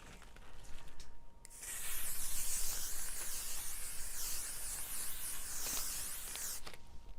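A steady hiss of a makeup setting mist spray runs for several seconds, close and continuous, beginning and ending abruptly.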